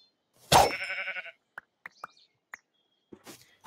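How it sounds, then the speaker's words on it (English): A sheep in RLCraft, the Minecraft modpack, gives one loud, wavering bleat, followed by a few faint clicks and soft, brief vocal sounds. "Hello, sheepy, sheepy, sheep."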